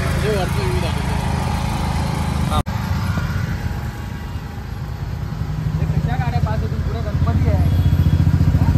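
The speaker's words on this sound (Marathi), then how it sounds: "पार्टी जनरेटर आहे." A generator runs with a steady, loud, low engine drone during a Ganpati festival procession in the street, while people talk over it throughout and a brief cut is heard partway through.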